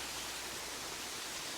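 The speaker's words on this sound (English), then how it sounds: "especially being by a waterfall" A waterfall gives a steady, dense broadband rush of falling water that holds even and unbroken throughout, with no voices over it.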